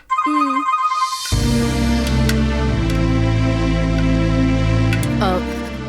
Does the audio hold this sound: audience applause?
no